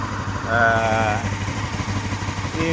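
A Honda CB500 motorcycle engine idles nearby after its carburetors were synced and the idle turned up slightly, a steady low rumble with a brief rise in pitch partway through.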